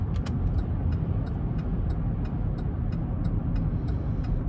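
A 2017 Buick Enclave with about 79,000 miles hums along on the road, a steady low rumble of engine and tire noise with faint, regular ticking over it throughout.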